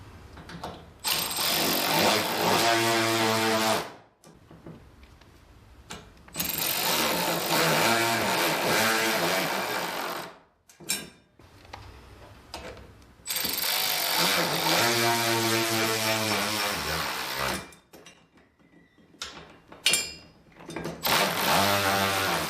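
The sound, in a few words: power tool tightening leg screws on a garage storage rack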